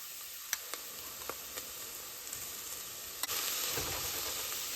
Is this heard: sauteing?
yes